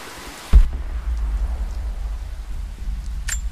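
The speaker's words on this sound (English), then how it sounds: "When it rains, the deer cluster together under the trees." Steady, close rain pours in the video game Rise of the Tomb Raider, in a valley scattered with abandoned Soviet salvage; a sharp thud opens the dense, continuous hiss.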